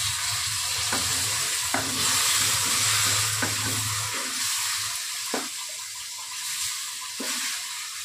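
Turnip curry sizzling and frying in a pan as water is added, with steady crackling hiss and a few clinks of a spoon stirring through it.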